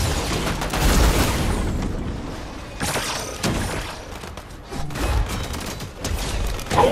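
Gunfire in Fortnite aimed at the player, a loud, busy barrage of shots and impacts with repeated bursts through the whole stretch.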